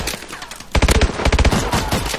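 A submachine gun in Call of Duty Advanced Warfare fires close, loud bursts of rapid shots, a short pause and then a dense stuttering volley.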